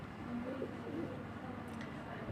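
Faint, soft pigeon cooing in a village setting, a few low rolling coos in the first second over a quiet, hissy background.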